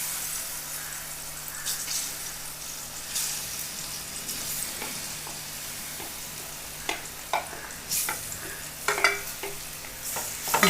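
Cut banana pieces fry in ghee in a pan, a steady close sizzle with intermittent scraping and stirring clatters that grow more frequent toward the end, no voices.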